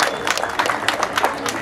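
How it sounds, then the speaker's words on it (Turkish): Brisk clapping from a crowd at a school graduation ceremony, uneven individual claps blending with a murmur of voices, moderately loud and close. "Güzel bir alkış alıyorum."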